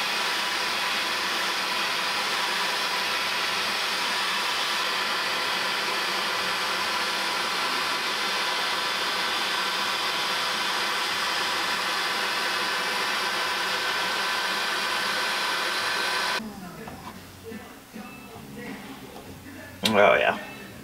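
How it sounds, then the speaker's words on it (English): A heat gun blows a steady, loud whooshing hiss while softening sound deadening material inside a car being stripped for a K-swap. The hiss cuts off near the end, followed by brief scraping and handling noises. "So I use the heat gun a bit and it's working out pretty well."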